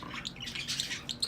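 Busy chatter of English budgies in an aviary, a dense overlapping mass of bright chirps and warbles with sharp tweets standing out, fairly close and continuous with no talking.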